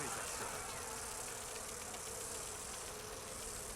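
A mace, the Cudgel of the Golden Ebon Queen in Dragon Age Inquisition, gives off a steady, faint drone of buzzing bees or wasps that holds unchanged for several seconds.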